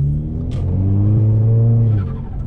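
An Audi fitted with a throttle controller accelerates hard, its engine note climbing steadily and loudly for about two seconds before easing off, with no talking.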